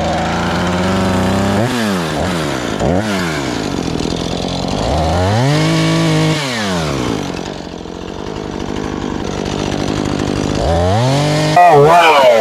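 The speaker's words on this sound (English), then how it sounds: "Why does a chainsaw take so long to cut?" A chainsaw drones loudly throughout, its engine revving up and down repeatedly as it bites into a fallen tree, close and steady for the whole stretch.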